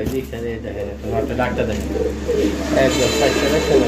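A male fancy pigeon coos repeatedly up close, deep throaty rolling calls in an ongoing rhythm, with someone talking underneath.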